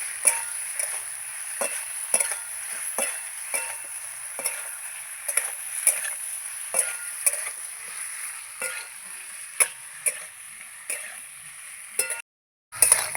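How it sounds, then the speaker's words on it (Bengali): Raw eggplant is stir-fried with spices in a pan, a steady frying sizzle broken by sharp, regular scrapes and knocks of the spatula against the pan roughly every half second. A brief silence comes near the end. "মশলার সঙ্গে আমি ভালো করে কষাবো বেগুনটাকে"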